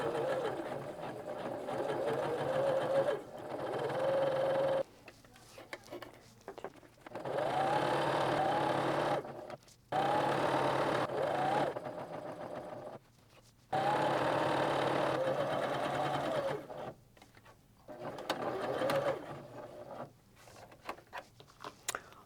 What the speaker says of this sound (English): So let's put a little bit of a back stitch in there to start with.